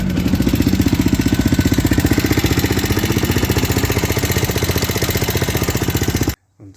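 A Husqvarna SM610 motorcycle engine with a knocking fault runs at a steady idle, loud and close, with a fast even beat throughout before cutting off abruptly near the end.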